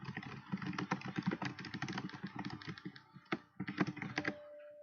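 Someone types rapidly on a computer keyboard during a late-night live stream, with a dense run of close clicking keystrokes, a brief pause, then a few more taps, and no speech.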